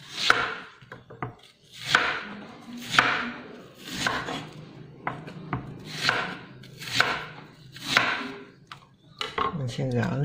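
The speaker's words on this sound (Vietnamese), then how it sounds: "Hành tây cũng xắt múi cao luôn nha." A knife chops an onion into tall wedges on a cutting board while preparing sweet and sour pork ribs, giving about seven sharp, evenly spaced chops close by with no talking.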